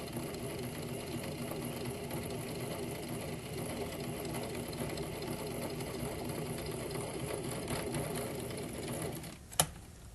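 A sewing machine runs steadily while stitching a flat felt seam on fabric, a continuous even mechanical whir that stops abruptly near the end with a small click.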